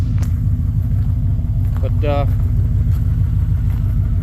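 A car engine runs and idles after a mouse nest burned in it, a loud steady low rumble throughout, with someone briefly speaking over it.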